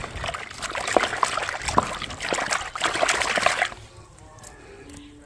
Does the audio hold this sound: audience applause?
no